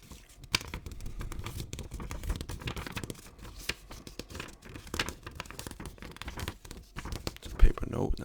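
A paper banknote, a 5-franc note from Zaire, is handled close up with soft crinkles and papery rustles in irregular bursts, while a quiet voice talks over it.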